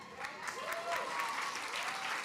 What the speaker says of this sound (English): We should all be clapping for that.